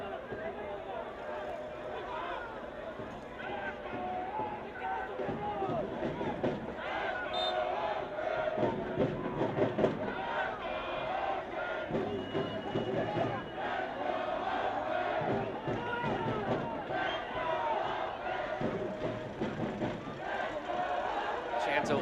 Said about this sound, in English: Let's Go Oakland ringing out from the crowd